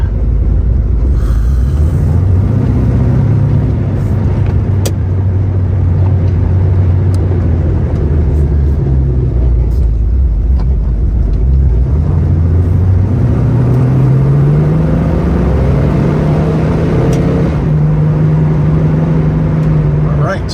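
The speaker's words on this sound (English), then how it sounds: "Let's go for a little test drive here." A muscle car on a test drive in cold 41-degree weather gives a loud, steady low engine drone that sags and then climbs in pitch as it accelerates and shifts, holding close and continuous throughout.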